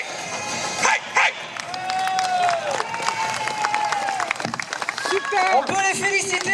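Audience applause mixed with cheering, shouts and what sounds like dog yips, a busy crowd din with sharp bursts of clapping and voices calling out over the noise.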